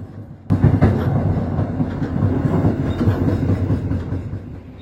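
The Singasari passenger train rolls on rails after leaving Cirebon, its loud steady rumble and wheel clatter cutting in abruptly after a brief quiet moment and holding close and constant with no voices.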